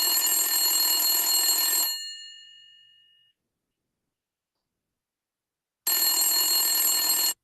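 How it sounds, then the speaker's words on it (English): A telephone bell rings in a long metallic burst that trails off, then after a few seconds of silence a second ring begins, loud and close. "You receive a phone call."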